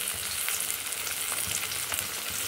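A fish head fries in hot oil, a loud, continuous, close sizzling hiss with fine crackles and faint bubbling throughout, with no voices.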